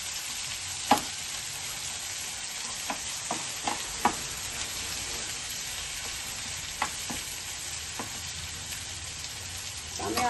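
Garlic and ginger fry in a pan for a pakal fish dish, a soft continuous sizzle broken by a few sharp crackles and stirring clicks, with no voices.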